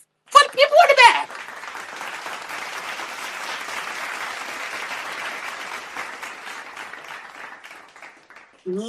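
A live audience at a comedy talk broadcast bursts into loud cheering and whoops, then settles into sustained applause that runs steadily for several seconds before tapering off, with a voice cutting in at the very end.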